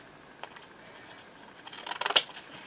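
Old, weak scissors trim cream cardstock in a few short, crisp snips that grow louder toward the end, with quiet room background and no talking.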